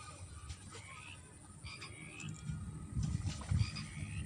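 Frogs croak in a rice field, with repeated calls at low and mid pitch. They keep going throughout and swell louder toward the end, alongside a few higher chirps. Nobody speaks.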